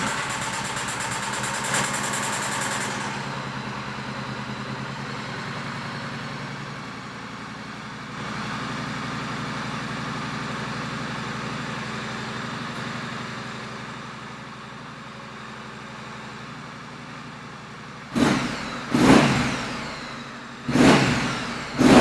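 A Triumph Street Scrambler motorcycle engine runs roughly at first, then settles into a steady idle for a long stretch, ending with three sharp throttle blips that rise and fall close by.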